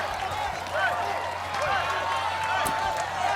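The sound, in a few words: crowd cheering for an American Ninja Warrior competitor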